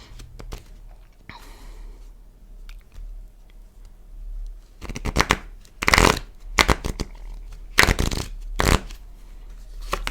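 Tarot cards being handled for a reading, a brief early riffle, then quiet, then a run of close, crisp bursts of shuffling and card slaps, with no talking.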